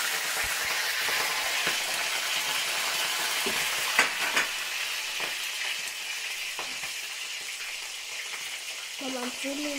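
Sausages fry in hot oil with a continuous crackling sizzle, punctuated by a few sharper pops and utensil clinks, while a voice briefly speaks near the end.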